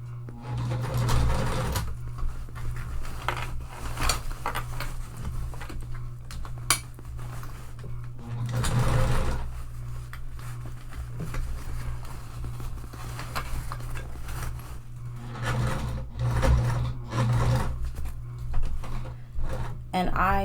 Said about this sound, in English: It just helps my machine have more even stitches, especially because I'm using a domestic,